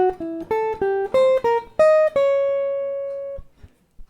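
A guitar plays a diminished scale tetrachord in C, about eight plucked notes climbing in quick, even succession, with the last note ringing out and fading alone.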